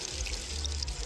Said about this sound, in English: I go in and rinse my face and hands